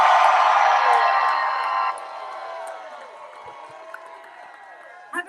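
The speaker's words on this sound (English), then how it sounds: "can we get them to give us the loudest cheer of the day?" A crowd at an ALS walk opening ceremony lets out a loud, sustained cheer that gradually fades, leaving faint scattered voices and a brief clap near the end.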